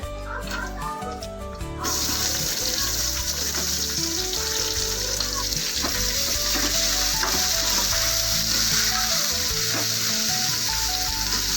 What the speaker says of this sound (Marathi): कांदा आणि खोबरं भाजून घेणार आहोत